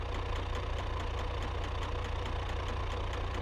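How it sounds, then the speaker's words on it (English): A failing inline-six engine of an Ibishu Covet in the BeamNG video game runs rough and steady, a continuous idling drone with faint regular knocks throughout. "this inline 6 is definitely gonna die"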